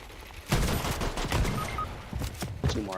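Shotgun blasts in a Fortnite match: several loud, booming shots in quick irregular succession over a few seconds, with dense game noise in between.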